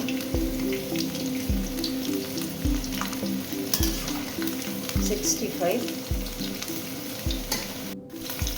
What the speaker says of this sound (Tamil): காலிஃப்ளவர் 65 அழகாக ஃப்ரை ஆகிடுச்சு